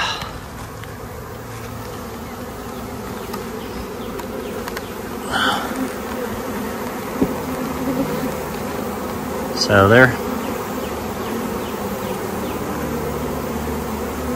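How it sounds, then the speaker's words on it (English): A honey bee swarm hums on an Osage orange tree, a dense continuous buzz close at hand with individual bees zipping past the microphone twice, loudest near the end; a voice speaks briefly. "trying to call in the other bees"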